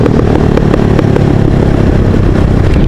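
A motorcycle with an open, straight-through exhaust idles loudly and steadily nearby, its deep lumpy burble pulsing without pause.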